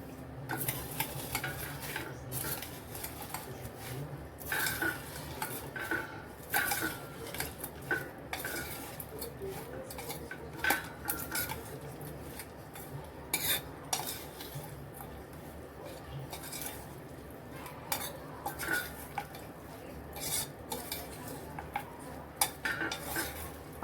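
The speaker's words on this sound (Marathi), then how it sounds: "आता हे एकत्र आपण हलवून घेऊया" Bhel is tossed with farsan and fine sev in a bowl, a long run of dry rustling and spoon scrapes with light clinks against the dish, close and fairly quiet, no talk.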